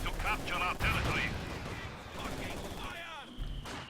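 Mortar artillery fire in Company of Heroes 2, booming shots and battlefield gunfire mixed with game sound effects and a voice talking over the action.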